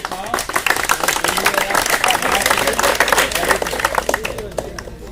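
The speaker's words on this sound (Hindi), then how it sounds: "अब आपस में ताली मार लो" A group of NCC cadets at a training camp at a home guard training centre in Bihta clap together, a dense and fairly loud patter of hands running throughout with voices talking underneath.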